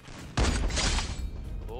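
A gunshot cracks out in a shooting video game, one sharp, loud burst that drops to a fading echo and low background noise.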